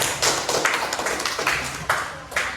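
A small classroom group claps after a quiz, sparse sharp handclaps arriving in loose, uneven bursts, close and fairly loud with no talking.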